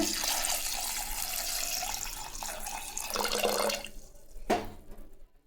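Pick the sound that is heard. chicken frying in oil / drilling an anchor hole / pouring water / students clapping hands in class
pouring water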